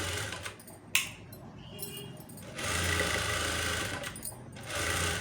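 A sewing machine stitches blouse fabric in short bursts of fast mechanical whirring, separated by pauses, close by and fairly quiet.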